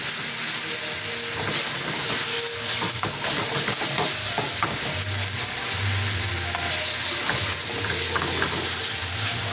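Ginger hoisin chicken pieces are stirred in a sizzling pan, with continuous frying crackle and the scrape and clatter of a utensil moving through the food, close and steady, with no talking.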